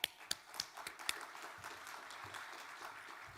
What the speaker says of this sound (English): Big round of applause for Kat.